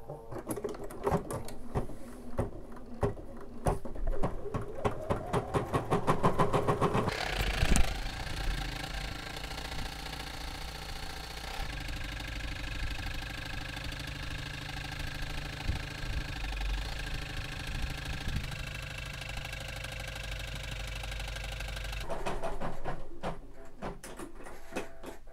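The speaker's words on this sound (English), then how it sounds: "So now watch as it stitches and you'll see how the thread away mode works." A Bernina 570 sewing machine stitching a letter in embroidery mode, a steady close mechanical whir that rises and shifts, then an automatic thread cut and the hoop moving, with clicks before and after.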